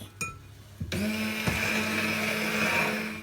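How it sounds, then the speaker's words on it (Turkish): An electric hand mixer switches on after a few clicks and whirs steadily as it whisks cake batter made with flour and eggs, a close, even motor whine that holds to the end. "Tekrardan çırpmaya devam ediyoruz."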